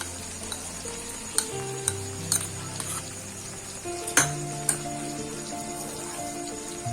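Spice paste frying in a pan for a Bengali vegetarian chana dal with coconut and raisins, a soft steady sizzle under repeated clinks and scrapes of a spoon stirring against the pan.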